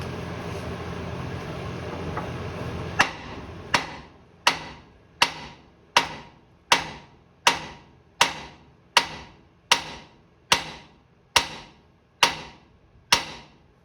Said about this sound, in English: We'll hit that spindle with this hammer a few times and she should break loose.